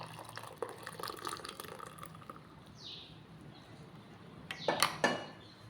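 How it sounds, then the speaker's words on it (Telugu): Butterfly pea flower tea is strained, producing soft trickling and dripping liquid sounds, close and quiet, with a brighter splashing pour toward the end. "దీన్ని వడకబెట్టేసుకుంటున్నాను నేనైతే చాయ్ ఇలా వడకబెట్టేసుకోవాలి"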